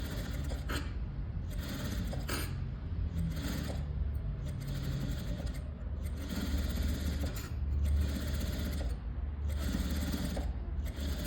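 A sewing machine stitches a fully lined blouse in steady, rhythmic runs with brief pauses between passes. It is close and fairly loud, with no talking.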